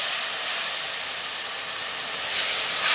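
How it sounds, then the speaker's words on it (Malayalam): Hot water poured onto freshly roasted semolina in a pan for payasam, releasing a loud, steady hiss of steam that carries on without pause and flares slightly at the end. "ഇതിലേക്ക് 1/4 കപ്പ് ചൂടുവെള്ളം ചേർക്കാം."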